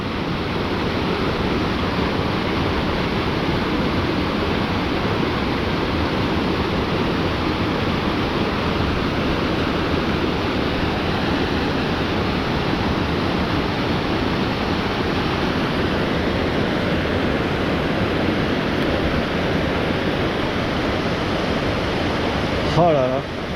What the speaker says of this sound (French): je vais pas la remonter la cascade